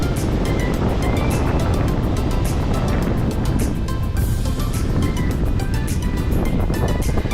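Sea waves crash against the rocks on Manapad beach, a steady, loud wash of surf and wind noise that runs unbroken and close throughout.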